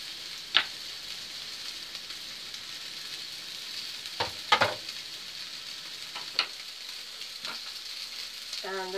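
Flatbread toppings frying in a pan give a soft, continuous sizzle at low volume, broken by a few sharp clicks and taps of utensils against the pan.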